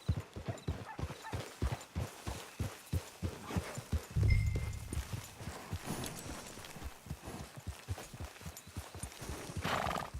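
Steady, evenly paced horse hooves clip-clop in the Red Dead Online game, clear and close, with a brief snort or whinny partway through and a soft rustle near the end.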